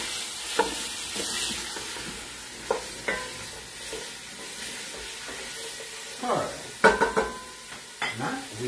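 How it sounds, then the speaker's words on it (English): Carrots sautéing in a soup pot for beef short rib barley soup, a soft steady sizzle broken by repeated scraping stirs and light clinks of the spoon against the pot, with a few brief louder strokes near the end. "We saute the carrots together."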